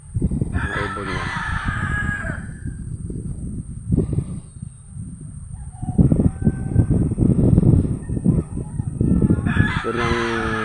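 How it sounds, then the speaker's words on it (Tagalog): A rooster crowing near a river in a rural yard, with a loud close crow at the start and another at the end, separated by a stretch of softer clucking and rustling background noise. "May ibon yan."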